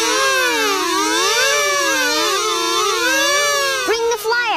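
Several voices imitate a siren together, overlapping rising and falling wails held for a few seconds, loud and close, ending in a brief flurry of other sounds.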